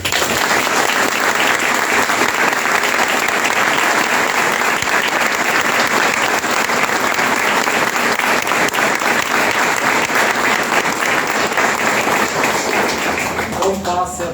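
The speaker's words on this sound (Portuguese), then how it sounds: "é que nós pudéssemos aplaudir" Audience at a Spiritist centre lecture gives sustained, loud applause, a thick continuous roar of many hands that keeps going for the whole stretch and thins out only at the very end.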